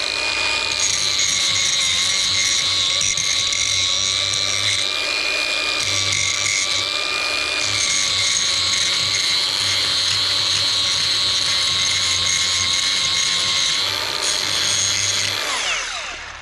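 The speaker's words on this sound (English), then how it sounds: "Get the angle grinder." Angle grinder working on the rear brakes of a Land Rover Discovery 2, a loud, sustained high whine with shifting tones and brief dips in load, which winds down at the end, close by with no talk.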